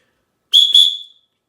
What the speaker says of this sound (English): It is a Acme branded Tornado whistle. That's a good whistle for a plastic whistle